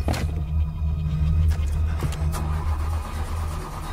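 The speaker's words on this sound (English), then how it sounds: "Come on. She better start with that car." A car engine in a horror film cranks and sputters while trying to start, a loud close churning rumble that strains and then fades without catching.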